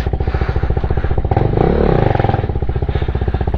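A KTM 390 Duke motorcycle being ridden, its engine thrumming in a steady, rapid pulse that swells briefly as the revs climb mid-way, then settles back, loud and close with no talking.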